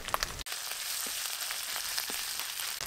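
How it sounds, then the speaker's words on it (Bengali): Ginger and green chillies fry in a pan, giving a steady, close sizzle with crackling pops throughout, heard alone with no talking. "আদার কাঁচা লঙ্কা বেশ ভালো করে একটু ভেজে নিয়েছি"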